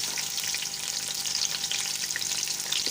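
Onions and whole spices fry in a pan for a gobhi gosht curry, a continuous crackling sizzle with faint stirring and no speech.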